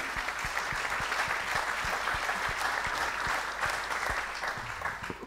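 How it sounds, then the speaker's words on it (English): An audience at an EU single market panel event applauds two departing panelists, a steady, dense wash of clapping that holds evenly for several seconds before easing slightly at the end. "Round of applause for those two."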